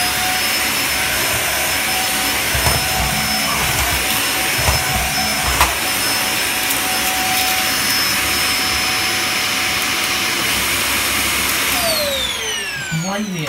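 A Dyson vacuum cleaner with a broken bin flap runs with a loud, steady high-pitched whine and roar throughout, close up, before the motor's pitch sweeps down as it winds off at the end.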